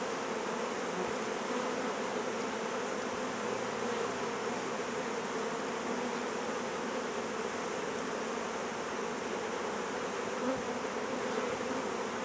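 Honey bees buzz steadily on a brood frame from an open hive, a dense, continuous hum with no voices.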